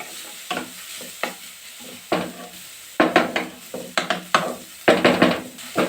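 Potato filling with capsicum is stirred and roasted in a pan for aloo patties, giving a low sizzle under repeated loud, rhythmic scrapes and knocks of a spatula, close up and alone.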